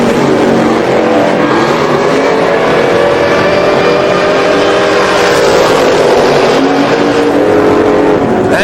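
Drag racing cars at a Sick Week 2024 event roar loudly and continuously down the strip, with engine pitch rising and sweeping as they accelerate away, heard close and without pause.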